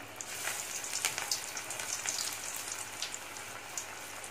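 Small raw banana vadai sizzle in hot oil, a soft, fairly faint crackle of frequent tiny pops with no talking.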